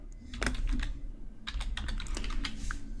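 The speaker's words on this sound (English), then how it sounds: "So I'm just going to type in customer" Close, crisp keystrokes on a computer keyboard in irregular quick bursts as text is entered into a PostgreSQL database query, with a soft low room hum underneath.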